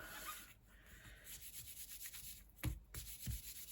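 An embossing buddy is rubbed over card, making a quiet, soft scratchy rubbing in short repeated strokes, heard close with no talking.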